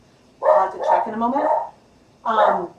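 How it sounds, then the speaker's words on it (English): A dog barks in a few close, loud woofs in a short burst, then barks again after a pause, in an indoor home setting while a person speaks. "sorry about the dog"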